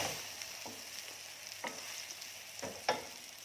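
Cha-om (acacia shoot) dipped in egg frying in a pan, a steady close sizzle with a few scraping clicks of a utensil, no voices.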